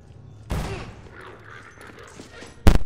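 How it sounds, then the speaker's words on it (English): Gunfire in Half-Life 2 cracks out in two separate loud shots, one early and a sharper, heavier one near the end, with quiet game ambience and faint background noise in between. "Someone's shooting me."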